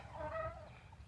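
Backyard chickens from a large flock give a brief, throaty cluck that rises and falls over a low, rumbling background, fairly close and moderately loud.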